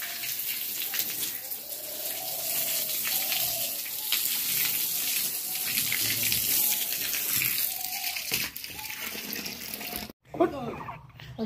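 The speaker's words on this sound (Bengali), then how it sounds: "এই মেঝেটাতে পানি দিচ্ছি। পানি দিয়ে রাখতে হবে, পুরো পানি দিতে হবে।" Water poured across a newly prepared floor to cure it before concrete is laid: a steady, close gush and splash that runs continuously, then breaks off briefly near the end, with some voices in the background.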